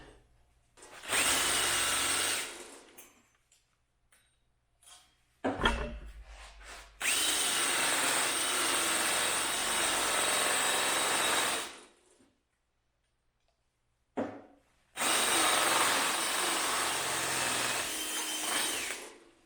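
Power tool cutting a notch into a metal tube for a homemade Mazda RX-7 strut brace, in three loud sustained bursts of grinding and cutting separated by short pauses, with no talk.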